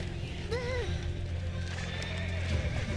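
Horses neighing in a video game story scene, a rising whinny near the start over steady clip-clopping hooves that run through the whole stretch, with faint background sound.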